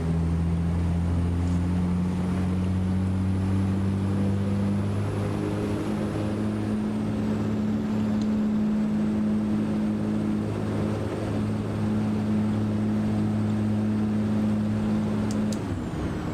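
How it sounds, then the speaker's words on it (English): Caterpillar 6NZ diesel engine of a truck in American Truck Simulator, a steady low drone with a strong, even hum held throughout at cruising speed, loud and continuous with no voices. "The engine I got in this thing is a Caterpillar 6NZ"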